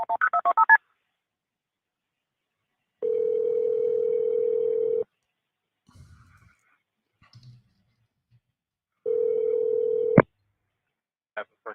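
Phone tones on a recorded 911 call: a quick burst of dialing beeps, then two long steady tones separated by silence, with a click and faint noises between.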